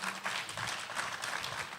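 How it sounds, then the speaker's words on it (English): Audience applause at a business summit and exhibition, a steady, dense wash of many hands clapping throughout, fairly loud and continuous with no talk over it. "give yourself a round of applause in advance for the story that we will hear very soon"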